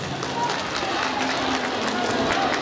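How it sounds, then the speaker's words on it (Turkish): Guests at a Turkish engagement ceremony clap together in a dense, steady burst of applause that fills the room, with crowd voices mixed in. "Allah'ını seven alkış alsın."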